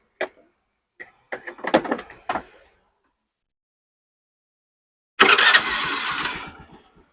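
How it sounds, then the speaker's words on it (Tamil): A few sharp clicks of a Honda Activa scooter's controls come first, then after a pause the engine catches with a loud burst and settles into a close, steady idle that fades out. "நான் வண்டி ஸ்டார்ட் பண்ணுறேன்."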